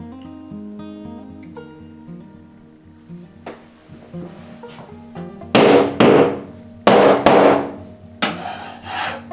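Scraping and rubbing sounds give way to several sharp hammer strikes, loud and close, landing in uneven pairs and singles against a hard surface.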